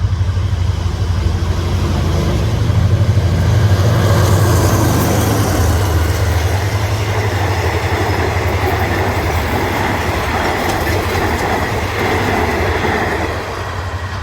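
GA diesel locomotive hauling passenger train 133 on a single-track line, a loud, steady rumble of engine and rolling wheels that holds close and alone, easing slightly at the end.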